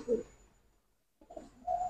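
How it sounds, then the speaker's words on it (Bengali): Large pigeons cooing in a Kolkata loft, a low throaty coo at the start, then a pause of near silence before more soft cooing and murmuring returns, fairly close and moderate in level. "বড় সাইজ পায়রা, পর পর।"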